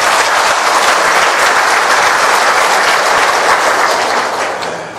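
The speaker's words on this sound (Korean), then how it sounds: "사목국장인 줄 알고 박수를 쳤는데" A lecture audience breaks into sustained applause, dense, loud and continuous, tapering slightly at the end with no speech over it.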